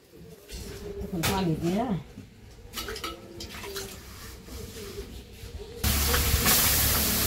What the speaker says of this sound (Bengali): ওই যে শিং মাছগুলো ভাইজা নিতেছে